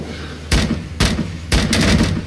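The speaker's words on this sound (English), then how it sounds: "Time to turn around and shoot." Gunfire in the video game Rising Storm 2 Vietnam: three loud, close bursts about half a second apart, each with a sharp crack and a rumbling tail, no voices.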